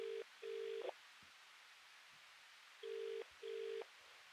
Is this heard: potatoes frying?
no